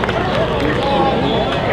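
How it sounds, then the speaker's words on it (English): Steady applause from a cosplay contest audience at the Orlando Japan Festival 2021, a dense wash of clapping with crowd chatter and voices mixed in throughout. "Give her another round of applause"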